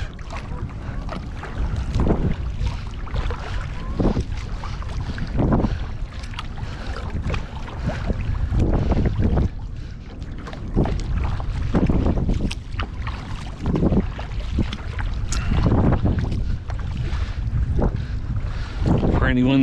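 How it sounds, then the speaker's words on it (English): A kayak is paddled on the Missouri River at Great Falls in the evening, with repeated soft water strokes and splashes under constant wind buffeting the microphone, close and fairly loud throughout. "I'm out tonight for a paddle on the Missouri right here in Great Falls."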